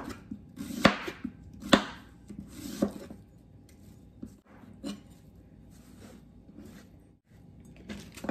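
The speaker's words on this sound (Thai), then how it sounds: "ตำกระเทียมค่ะ" Garlic is pounded in a mortar while preparing shrimp pad Thai: a few quiet, irregular thuds and grinding knocks with soft pauses between them, heard alone without speech.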